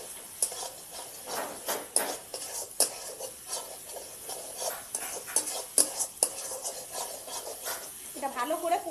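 A utensil stirs and scrapes spices with cumin and coriander powder and chili powder in a pan, producing rhythmic close scrapes and clinks over a soft sizzle, with a brief vocal sound near the end.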